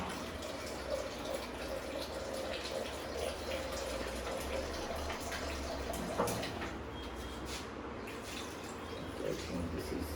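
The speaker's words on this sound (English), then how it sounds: "I will add water to this" Water pours steadily into a pressure cooker while yakhni pulao is being made, a continuous splashing fill sound lasting about ten seconds with faint background noise.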